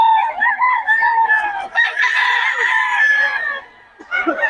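Roosters and gamefowl, including two-year-old birds and a bull stag, crow and cluck loudly and close together, with overlapping calls for several seconds before a short lull and more clucking.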